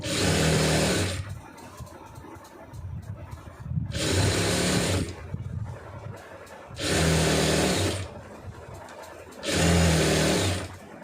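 A sewing machine stitches the seams of churidar pants in four separate bursts of fast, loud, steady whirring, with quieter pauses between runs.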